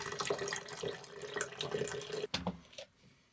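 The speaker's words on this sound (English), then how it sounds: "The Behmor, a bit spattery. I've got a bit of liquid kind of spattering around the place." Brewed coffee pours from a Behmor brewer carafe, spattering and splashing unevenly into a vessel for a few seconds, then tapering off with a few drips; close and fairly quiet.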